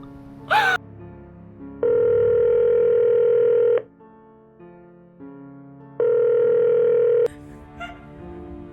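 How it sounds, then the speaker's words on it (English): A telephone line after the caller hangs up gives two long, steady dial-tone beeps separated by a few seconds of near silence, with a gasp and brief rustling around them. "Don't you hang up the phone, Jana."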